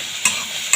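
Capsicum pieces fry in a pan for mushroom soup with a close, steady sizzle, and two quick scrapes of stirring punctuate the brief moment.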